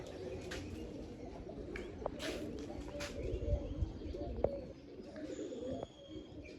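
A pigeon coos softly in low, rolling phrases nearby, with faint chirps of other birds and a steady outdoor murmur around it.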